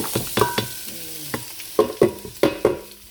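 Garlic, onion and ginger sautéing in a pan, with a quick run of sharp utensil scrapes and clacks against the pan over a low sizzle, close and fairly loud with short gaps between strokes.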